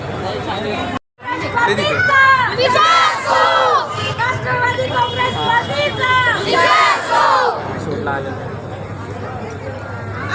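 A dense crowd shouts in rhythmic chants and cheers at the inauguration of a political campaign office, loud and close, with many overlapping voices, a brief dropout near the start and a low hum beneath.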